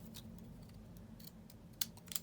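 Scissors snipping off paper edges in a craft session, several faint quick cuts scattered over a quiet room, with two sharper snips near the end.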